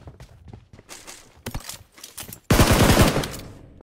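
Automatic rifle fire in PUBG Mobile: a long, loud, rapid burst of closely spaced shots bursts in after scattered quieter clicks and thuds, then tapers off.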